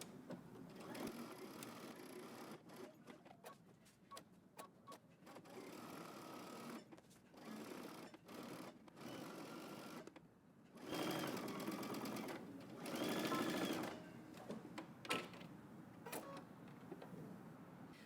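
A domestic sewing machine back stitches along a dress seam for a Simplicity 8639 pattern with built-in power mesh, whirring steadily in short bursts with brief pauses, close and fairly quiet, the motor rising louder near the end.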